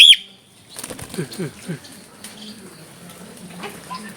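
Pet cockatiels flap their wings in a few short, close flurries as they are let out, with soft rustling afterward.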